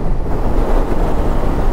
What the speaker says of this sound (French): je me prends beaucoup d'air sur le visage